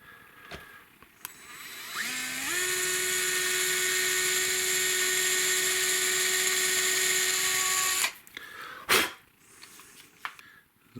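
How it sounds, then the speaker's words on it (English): An electric drill spins up and bores into a bass guitar part, holding a steady high whine for about six seconds before stopping, with small handling knocks and clicks around it. "Be a lot easier for the drill bit to start working."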